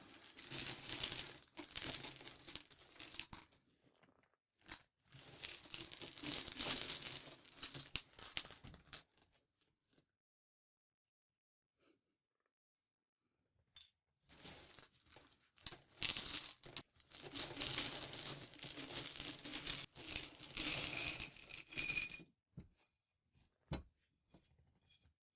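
Sticky old coins, mostly 1980s and 1990s cents with the odd wheat cent, clatter and drop in close bursts of handling, separated by quiet pauses and ending in a few isolated clinks.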